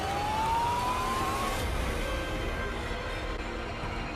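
A siren wails in the distance, rising in pitch over a low rumble of passing traffic, fading into steady road noise.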